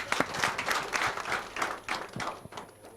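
An audience at a radio call-in programme claps in a short, uneven burst of applause, moderately close, without speech over it.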